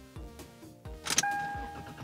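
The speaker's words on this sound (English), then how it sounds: "I'm gonna see if it starts the car." A Lexus or Toyota car engine cranks and catches, a brief mechanical churn followed by a steady idle with a faint electronic chime tone.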